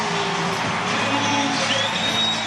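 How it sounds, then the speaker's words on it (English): A crowd at a Dodgers baseball game cheers and applauds Max Muncy's return, a loud, dense wash of clapping and whoops that holds steady throughout without a break. "big round of applause for Max Muncy, his long-awaited return"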